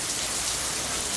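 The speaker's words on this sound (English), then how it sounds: "That's rain. That's how hard it's raining." Heavy rain pours down in a dense, steady roar, hard and continuous throughout, with no voices over it.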